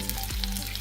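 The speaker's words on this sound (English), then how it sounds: "So I'm going to put first white wine on the pan. I'm going to put in the lemon juice." White wine and lemon juice sizzle and fry steadily in a hot pan, making a loud, constant crackle.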